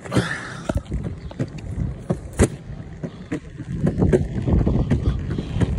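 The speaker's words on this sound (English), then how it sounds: "time to go for a little longboard ride" A longboard rolls over pavement near a university campus, with rumbling wheel noise, wind buffeting the microphone and sharp knocks from cracks and bumps, loud and close.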